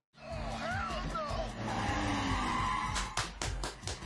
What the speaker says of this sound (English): That car damn it fell apart when it landed